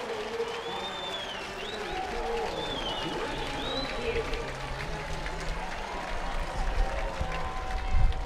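A college lacrosse crowd at a Duke vs Virginia game cheers and claps after a goal, a broad roar in the stands building toward the end while a commentator talks over it.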